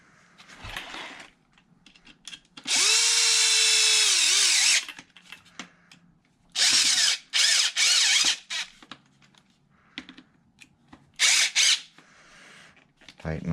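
A power drill tightens bolts on an Arrma Kraton ExB RC car, whirring in several loud close bursts that rise and settle, separated by quieter handling sounds.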